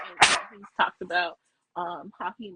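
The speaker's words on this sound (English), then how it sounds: "sorry about the dog" A dog gives a sharp, loud bark near the start, followed by a few softer yips, all close by and mixed in with a person talking during a live podcast recording.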